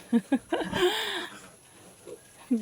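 Short grunting oinks from a piglet on a farm, a few separate bursts near the start and end with a longer squealing sound in between.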